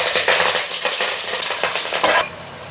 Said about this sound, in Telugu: అదే కడాయిలో ఇంకా కొంచెం ఆయిల్ తీసుకున్నాను. ఒక 5-6 పచ్చిమిర్చి కట్ చేసి వేసుకున్నాను.